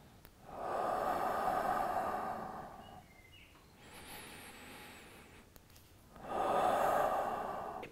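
Slow abdominal breathing during a relaxation exercise: two long, steady breaths a few seconds apart, soft and close, with a quiet pause between them and no talking.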